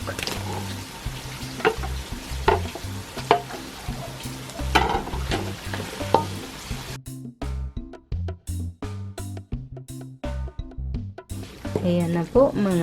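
Chicken goes into a pan where beef is already frying for pancit, giving a close, busy sizzle with rhythmic stirring clatter for several seconds before the frying drops back and a voice takes over.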